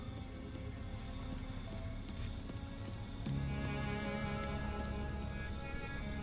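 Steady rain falls in the Belgian video game Gloomy Eyes, a dense continuous patter that grows a little louder partway through, with a low background rumble and no talking.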